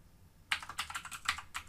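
Quick bursts of keystrokes as a line of code is typed on a computer keyboard, close and crisp, with uneven clusters of clicks after a brief quiet start.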